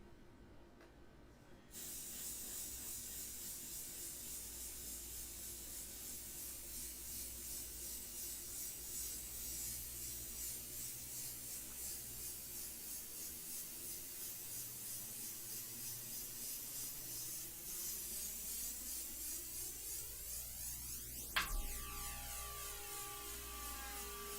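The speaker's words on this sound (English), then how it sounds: "With this big cup, you can see how much longer I could spray" Airbrush with a big cup, an Extreme Patriot 105, spraying India ink: a steady continuous hiss of air and paint that runs for many seconds after a brief quieter start, close and even.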